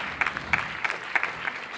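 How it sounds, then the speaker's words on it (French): Sparse, rhythmic clapping from a small audience at the opening night of a festival of African film, individual claps landing in a loose beat, moderately close and fairly quiet. "mais on l'applaudit s'il vous plaît"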